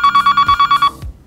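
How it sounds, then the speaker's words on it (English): A loud electronic warble phone ring from an overhead paging and loud ringer device warbles rapidly in one short burst of pulsing beeps, then stops. "Choose between a traditional electronic warble phone ring"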